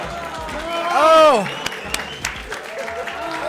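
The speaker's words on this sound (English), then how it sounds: "The crowd goes wild." The crowd at a 2019 Mindmeld gaming championship semifinal breaks into applause and cheering, a short burst that swells and fades under an excited commentator's voice.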